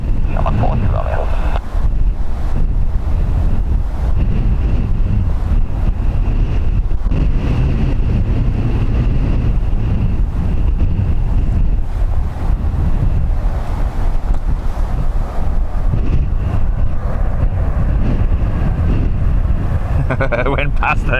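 Strong crosswind buffeting the microphone at Dublin Airport, a steady loud rumbling roar that continues for the whole stretch, with a radio voice speaking over it.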